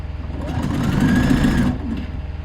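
A sewing machine runs a continuous stitching burst through fabric while a top is being sewn, a steady close mechanical whir with a rapid rhythmic patter that stops abruptly near the end.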